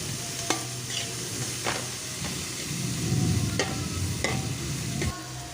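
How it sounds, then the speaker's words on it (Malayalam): Ingredients for macaroni sauté in a pan with a steady sizzle and hiss. A spoon or spatula stirs and scrapes against the pan every second or so, up close with no talking. "നന്നായി വഴറ്റുക. ആവശ്യത്തിന് ഇതിലേക്ക് ഉപ്പിടുക."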